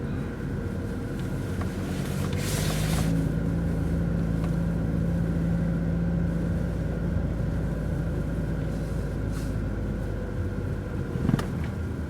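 A small Hyundai car drives along a road on the way to work, its engine and road rumble forming a steady, continuous hum with faint wind noise and a brief louder passing sound near the end.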